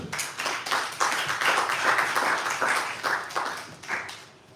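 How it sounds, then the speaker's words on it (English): An audience applauds the winners at a national schools debate championship final in Cameroon, a lively swell of many hands clapping that holds steady, then tapers near the end. "A round of applause for them."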